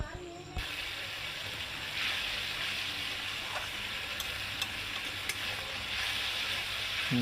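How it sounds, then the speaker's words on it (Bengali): Spice masala for a home-style rohu fish curry frying in a pan, a steady broadband sizzle running throughout with occasional metallic scrapes and clinks of stirring, close and continuous. "দেখুন প্রায় হয়ে এসেছে মশলাটা কষানো।"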